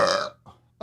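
A single loud, close burp after eating beans, gurgling and short, with a faint second rumble and a brief noise just after.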